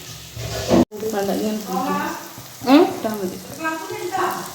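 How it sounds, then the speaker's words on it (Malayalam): Onion, ginger, green chili and garlic sautéing in a pan, a soft sizzle with stirring scrapes, interrupted once by a brief cut and overlaid by a voice talking throughout. "ബാക്കി സാധനങ്ങളൊക്കെ ഇതിനകത്തിട്ട് വലിയ ഉള്ളി ഇഞ്ചി പച്ചമുളക് വെളുത്തുള്ളി നന്നായിട്ട് വഴറ്റുക"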